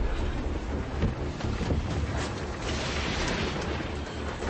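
Gale-force wind howls at sea during a storm aboard a sailing boat, gusts buffeting the microphone over a roaring wash of waves, loud and continuous with no voices.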